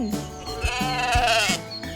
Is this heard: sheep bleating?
yes